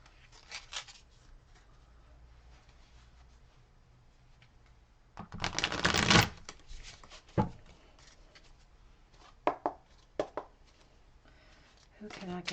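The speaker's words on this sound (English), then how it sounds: "That was a terrible shuffle." Tarot cards riffle and slap together in a brief burst of shuffling, followed by a few scattered taps and flicks, with quiet speech nearby.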